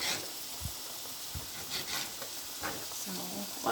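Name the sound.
pork frying and being stirred in a pan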